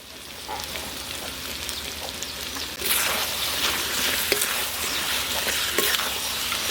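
Country chicken pieces frying with a ground masala paste of onion and tomato in hot oil, a steady crackling sizzle that grows louder and denser partway through, with occasional stirring clicks, close and alone.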